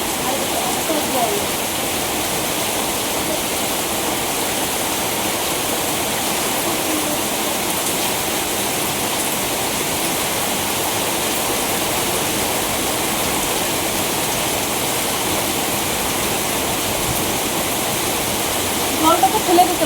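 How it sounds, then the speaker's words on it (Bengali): Water pouring steadily into a loom pit, a dense continuous rushing wash that stays even and fairly loud throughout, with no clear voices over it. "জল কত জল, তাঁতের গর্তের মধ্যে চলে যাচ্ছে"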